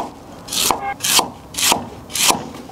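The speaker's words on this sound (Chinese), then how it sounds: "冬笋切片" A knife slices winter bamboo shoots on a board in four evenly spaced strokes, each a crisp close scrape ending in a soft tap, with no one talking.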